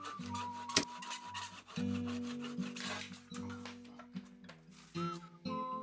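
Rough rasping strokes of a file working a wooden dowel rod in a timber-frame corner post, repeated in uneven bursts, close, over a steady tonal background.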